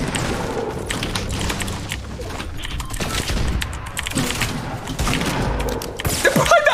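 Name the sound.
gunfire in the video game Fortnite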